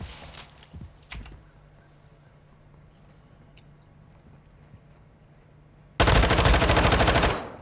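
Video game gunfire in Call of Duty: Modern Warfare II during a competitive esports match: a few sharp shots early on, quiet ambience, then a loud sustained burst of automatic fire near the end.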